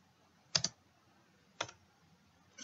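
A few quiet keystrokes on a computer keyboard: a quick double click, then a single click about a second later, and another starting at the end, all close and faint against a quiet room.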